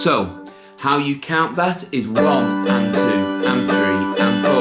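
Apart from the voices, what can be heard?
No everyday noises stand out.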